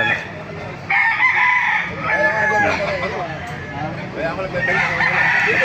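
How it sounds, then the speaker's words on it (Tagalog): Roosters crow loudly and repeatedly, with hens clucking in between and a busy market murmur underneath, at a market in Baliuag. "para makita nyo mga gandang manok dito"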